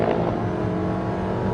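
Electric-assisted car accelerating, a close steady engine drone with layered tonal whine that holds fairly level in pitch rather than climbing sharply.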